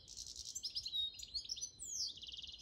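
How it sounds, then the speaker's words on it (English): A small songbird such as a robin, blue tit or finch sings in a tree, with quick bright chirps and trills in a continuous run, fairly soft over a quiet outdoor background. "I think it's either a robin or a blue tit or a finch or something. Making a lot of noise."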